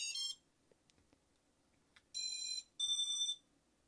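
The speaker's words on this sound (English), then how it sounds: "as you can see, it actually did beep already too" A drone flight controller's beeper, set up with a Vifly GPS Mate module, sounds a short high electronic beep, then after a pause two longer steady tones, close and clear with no talk.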